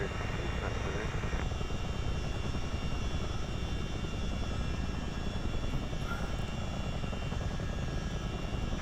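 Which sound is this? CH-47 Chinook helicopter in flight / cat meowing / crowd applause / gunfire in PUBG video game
CH-47 Chinook helicopter in flight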